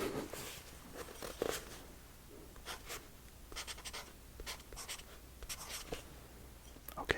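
A pen scratches letters into a crossword grid inside a cozy lake cabin, close and soft, in short irregular bursts of strokes with brief pauses between them.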